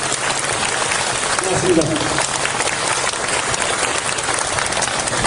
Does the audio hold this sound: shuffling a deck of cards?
no